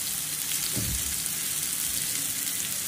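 Onion and turmeric frying in a pan, a steady close sizzle with a brief soft stir or scrape, no voices.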